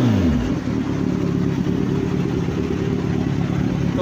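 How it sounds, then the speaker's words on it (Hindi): A Kawasaki Ninja 1000 fitted with an Austin Racing exhaust revs, dropping from a rising note into a loud, steady, throbbing idle close by, with no voices. "इसका आप जो है ना एग्जॉस्ट साउंड सुनो, कैसा साउंड करती है, बिल्कुल तार दिया ऑस्टन रेसिंग"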